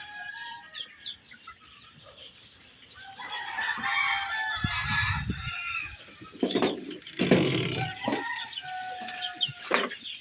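Fayoumi chickens on a farm cluck and crow in repeated bursts, with several birds calling over one another at close to moderate range.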